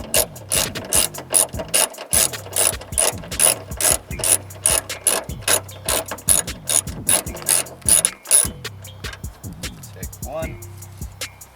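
A socket set ratchet clicks in quick repeated bursts, loud and close, as bolts on a Vauxhall Corsa D wiper motor are loosened, with short pauses between strokes and a bit of rattling near the end.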